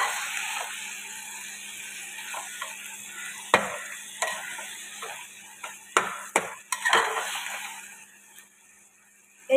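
Sugar paste being stirred into tomato chutney as it cooks, with a spoon scraping and clinking against the pan in scattered strokes over a steady sizzle.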